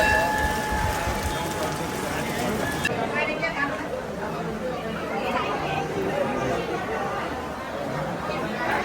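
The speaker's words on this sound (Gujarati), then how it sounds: "વરસાદ ચાલુ છે, ચારે બાજુ જંગલ છે" Rain patters steadily in the background at a forest temple while people chatter nearby, voices mixing with the constant wash of falling drops outdoors.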